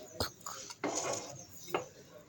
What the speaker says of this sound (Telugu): గుంట పొంగనాల ప్యాన్ పెట్టుకుందాం